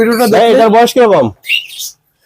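A cockatiel gives one short, clear chirp close by, heard just after a person finishes speaking.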